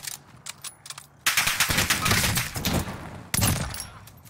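Gunfire in Warzone: a few faint, scattered shots, then a loud sustained burst of rapid fire, a brief pause and another sharp volley close by.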